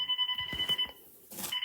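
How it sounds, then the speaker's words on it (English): A home security system buzzer sounds in repeated electronic beeps with a steady high pitch, pausing briefly then resuming, with clattering handling noises in between. "That buzzer is really annoying"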